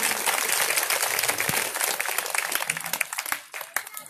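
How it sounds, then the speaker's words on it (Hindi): An audience at a Bhagwat katha religious discourse in Noida claps heartily, then the sound thins into scattered individual claps and fades near the end. "इनके लिए भी आप लोग जोरदार ताली बजाएं"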